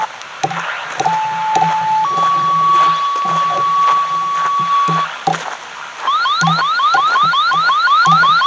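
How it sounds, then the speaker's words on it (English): A fire-call pager alarm sounds a steady two-step tone, then switches to a rapid warbling beep pattern, loud and close, with clicks underneath. "That's a fire call."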